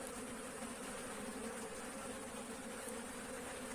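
Agitated honeybees buzz at an opened wooden hive during winter feeding with dry sugar, a steady, dense drone that stays close and even throughout, with no voices.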